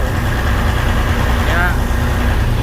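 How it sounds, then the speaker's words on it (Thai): A bus engine idles and runs steadily with a heavy low rumble, a faint turbo whine sweeping up briefly in the middle, and the sound continues throughout. "โอ้ระบบเครื่องยนต์ก็ โอเคเลยครับ เสียงเทอร์โบวิววิววิวดีเลยเกินนะฮะ"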